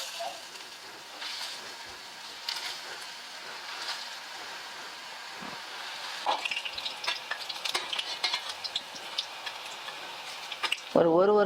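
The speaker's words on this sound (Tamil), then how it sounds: "ஷேலோ ஃப்ரை மாதிரி தான் பண்ண போகிறேன்." Carrot cutlets shallow frying in moderately hot oil in a pan, giving a soft continuous sizzle with light ticking spatters and handling noises, growing busier toward the end, where a brief clatter sounds.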